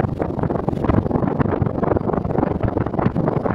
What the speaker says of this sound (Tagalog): Malakas yung yung hangin.